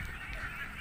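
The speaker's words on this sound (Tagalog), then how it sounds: "meron na naman tayong nakitang mga itik" Domestic ducks (itik) on a Philippine farm honking and quacking in a continuous nasal chorus at moderate distance, with no speech over it.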